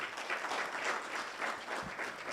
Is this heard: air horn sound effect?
no